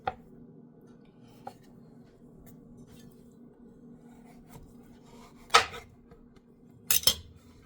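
A knife cuts a large, very ripe papaya in half on a quiet kitchen surface, producing a few isolated sharp taps and knocks, two louder clustered clacks near the end, with faint background hum between them.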